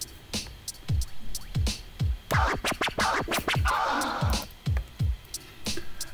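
DJ tear scratches emulated with ScratchDNA in VirtualDJ 8.4: a run of quick, rhythmic scratch strokes in repeated clusters, some sharp and bright, others broader and noisier, loud and alone with no voice.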